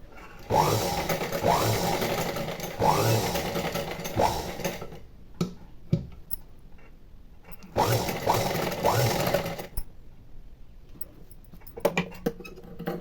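A domestic sewing machine with a normal presser foot runs in two long stitching bursts while sewing thread piping onto a blouse, a steady close mechanical whir with short pauses and small handling clicks between the runs.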